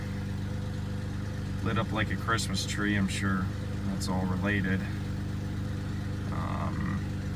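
A car engine idles at a dealer-only auction of broken and crashed vehicles, running loud but smooth as a steady hum beneath someone talking.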